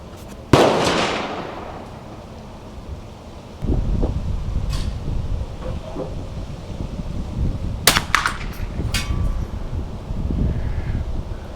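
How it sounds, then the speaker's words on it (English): A Winchester M190 rifle fires at a target outdoors. One sharp crack comes early, then a tight cluster of cracks follows several seconds later, all over steady wind rumble. "Now I'm going to shoot at the target on the bottom target."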